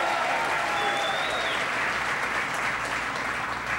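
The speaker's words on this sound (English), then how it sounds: "Give him a big round of applause." A large crowd at the Chrysler Group Toledo Supplier Park in Ohio applauds the mayor, a loud, sustained roar of clapping with faint cheers mixed in, continuous throughout.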